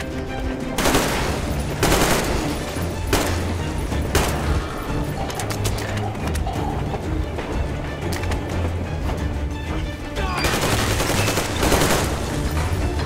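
Gunfire in the shooter game Metro Exodus: loud, dense rapid-fire bursts and volleys crackle almost without pause, with heavier clusters near the start and end.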